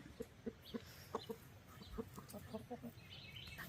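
Chickens cluck at a homestead coop in a rapid, uneven run of short clucks, fairly close and moderately loud over faint background noise.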